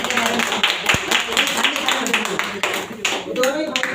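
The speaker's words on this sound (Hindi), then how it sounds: "शाबाश, तालियां तालियां" A gathering claps for students being honoured after serving at a yagya fire ritual, with a rapid patter of hand claps alongside overlapping voices and a sharp knock early on.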